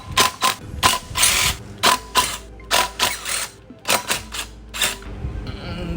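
Hand tools clicking and ratcheting while the rear wheel comes off a Vespa GTS scooter with a stuck bracket: bursts of sharp metallic ratchet clicks in uneven rhythm, close and fairly loud, with brief pauses between.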